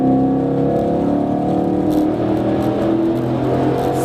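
Car fitted with a Borla aftermarket exhaust drives through a tunnel, a loud, sustained droning exhaust note that echoes off the walls with a slight rise in pitch, close and constant throughout.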